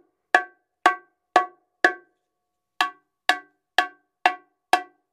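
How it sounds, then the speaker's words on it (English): An improvised high bongo drum is struck near its edge for a bright edge tone: nine crisp, ringing hits in two groups, four evenly spaced, a short pause, then five more, loud and close with nothing else audible. "This is great for the high drum to get that edge tone."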